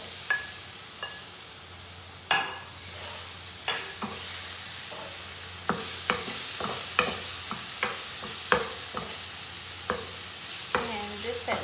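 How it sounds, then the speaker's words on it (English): Tomatoes fry in a pan, with a steady close sizzle under repeated sharp scrapes and knocks of a spoon stirring them, the strokes coming every second or so. "Alright, so now I'll add in the tomatoes."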